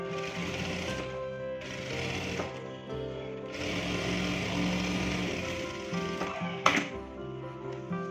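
Sewing machine stitching a folded half-inch hem on cigarette pants, running in steady whirring bursts with short pauses between runs, close and fairly loud.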